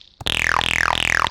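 Shorter synthesized acid jump-up stabs on quarter-note triplets: three loud, buzzy notes in a row, each a quick falling filter sweep, close and heard alone.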